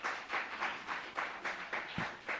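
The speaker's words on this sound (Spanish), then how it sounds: "Dele fuerte ese aplauso al Señor Jesucristo" A church congregation claps in a steady, rhythmic unison beat, roughly three claps a second, moderately quiet and somewhat distant.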